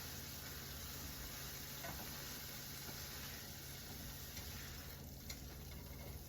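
Beef and broccoli calzone filling stirred in a pan, with a soft, steady sizzle and faint scraping, quiet and close, with no talking.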